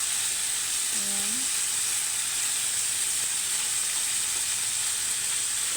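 Steak bites sizzle and fry steadily in a pan with garlic, rosemary, pepper and ginger, a constant close hiss filling the whole stretch with no talk.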